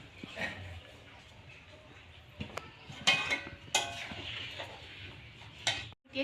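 Plates are set out for serving homemade village-style ghugni, producing a few sparse, light ceramic clinks and taps spread over a quiet kitchen background.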